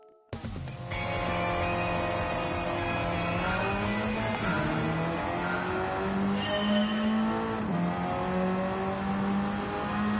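Ford Focus race car engine in a racing video game, revving loud and continuous after a brief start, pitch climbing and dipping slightly as it accelerates, with no talk.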